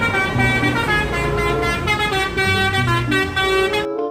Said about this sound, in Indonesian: ada mobil bus telolet panjang sekali teman-teman